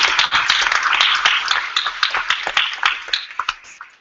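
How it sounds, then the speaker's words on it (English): An indoor audience at a hackathon demo event at MIT Media Lab claps for the participants: dense, fairly loud applause that thins toward the end. "give all of you a huge round of applause for all of the work that you did"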